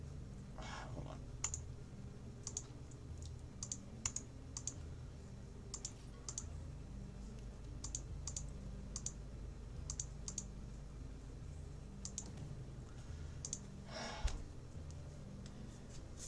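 Computer keyboard and mouse clicking during a Monster Hunter Stories Remaster gaming session: scattered, sharp little clicks and taps at an irregular pace over a low background hum, fairly quiet and close.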